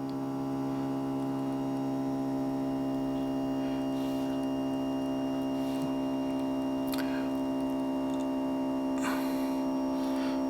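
A steady mechanical hum with strong low harmonics drones throughout from the motorized leveling jacks of a Burstner Elegance tag-axle motorhome, with a few faint ticks and clicks over it; no one speaks.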